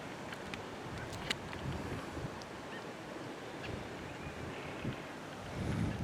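Wind blows steadily across an open outdoor spot, a constant broad rush with slight swells toward the end and a few faint distant bird chirps above it.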